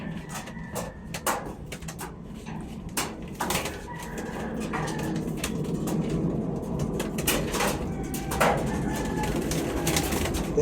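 Pigeons in a fancier's loft give low, soft repeated coos, mixed with scattered taps, rustling and handling noises close by, with a few sharp clicks throughout.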